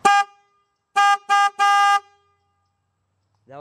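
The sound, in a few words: car horn mounted on a bicycle honking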